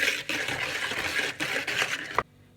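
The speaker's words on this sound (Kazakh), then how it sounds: "жылы сүтімізді құйып, тағы да араластыратын боламыз" A steady stream of warm milk poured close up into a bowl of pancake batter, splashing and gurgling for about two seconds before stopping abruptly.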